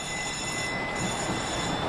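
A train rumbling steadily with a faint high metallic whine from the wheels, a continuous noise with no voices.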